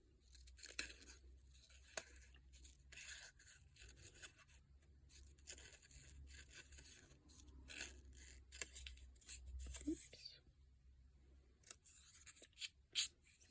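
Scissors snip through paper while a bird craft is cut out, quiet and close, in a run of irregular crisp clicks and cuts with faint rustling between them and no talking.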